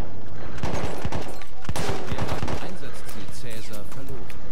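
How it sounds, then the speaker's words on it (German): Gunfire in Battlefield 1 rattles into a house in fast, loud, near volleys of sharp shots, with a voice talking over the shooting. "Wir schießen hier ins Haus rein."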